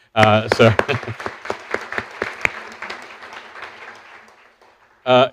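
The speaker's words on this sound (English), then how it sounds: "big hand for Chris" Scattered hand claps from an audience at a university medical school debate follow a brief voice, thinning and fading out before another voice cuts in at the end.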